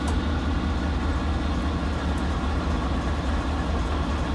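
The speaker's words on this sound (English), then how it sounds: "Looks like an empty coal train running the other way, waiting for us right there." An empty coal train in the video game Train Simulator 2016 on the Norfolk Southern Coal District route makes a constant, heavy low rumble with a faint rolling rattle, steady throughout and with no talking.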